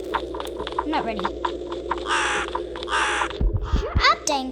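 A crow in a scary video game gives two loud, drawn-out caws, followed by quieter squawks, over a low background hum and soft clicks.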